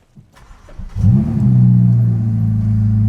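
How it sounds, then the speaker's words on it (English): A 2021 Ferrari F8 Tributo with a 3.9 V8 cranks over briefly, then fires with a loud rising roar and settles into a deep, steady, close idle rumble. "Let me just start the car up."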